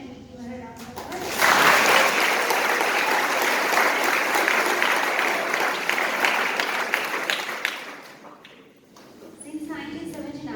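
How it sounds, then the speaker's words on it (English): An audience at a Shakes 2019 boys' semi-final breaks into loud, sustained clapping for a judge, swelling quickly, holding for several seconds and then fading, with a speaking voice heard before and after. "Can we give her a round of applause?"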